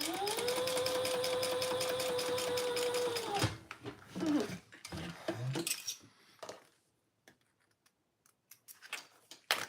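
A sewing machine runs steadily at first, then after the stop comes a burst of irregular clattering and knocking as the narrow presser foot drops off the edge of the fabric, followed by quieter scattered clicks.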